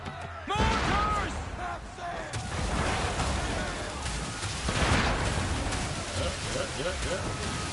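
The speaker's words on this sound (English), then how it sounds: "Mortars!" Mortar fire during a naval battle in Assassin's Creed III Remastered, heavy booming blasts and rumbling impacts over wind and sea noise, with voices shouting between the explosions.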